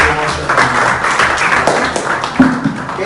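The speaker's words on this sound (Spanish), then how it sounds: "aplauso" Classroom applause for a teacher, a dense patter of many hands clapping steadily for a few seconds with faint voices mixed in.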